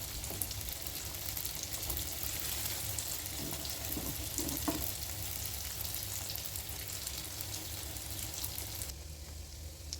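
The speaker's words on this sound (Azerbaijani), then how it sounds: "Yağ isindikdən sonra pirajkiləri yağın içərisinə əlavə edirəm ki, qızarsın." Pirozhki dough pockets fry in hot oil, a steady, dense sizzle and bubbling crackle that runs without pause at close range, with no voices.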